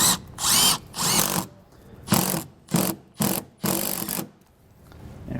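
A handheld power drill drives screws to mount a Voyager RV side camera on a 2011 Coachmen Freelander, whirring close up in six or seven short bursts of varying length separated by brief pauses.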